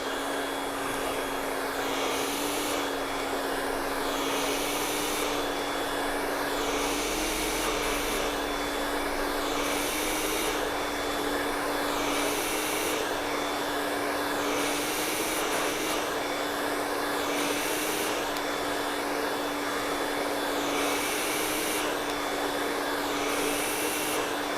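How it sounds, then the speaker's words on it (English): A steady, loud hair dryer whine blows continuously as hair is blow-dried with a round brush, with faint rhythmic brushing strokes beneath the constant airflow. "as I'm blow drying this"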